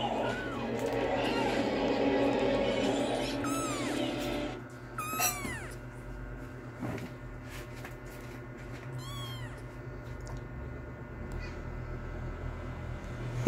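A cat meows several times in short rising calls, heard close over a busy background of voices and household noise, with louder crowd-like chatter in the first seconds.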